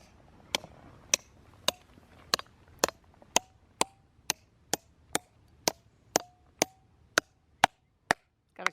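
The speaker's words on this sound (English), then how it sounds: "Let's find out if we can split the rock." Steady, sharp hammer strikes on a rock being split outdoors. About sixteen evenly spaced cracks land roughly every half second, clear and close with little between them.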